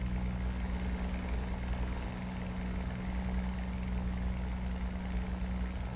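A propeller fighter plane's engine drones steadily and evenly throughout a video game flight, a dense continuous roar with no breaks.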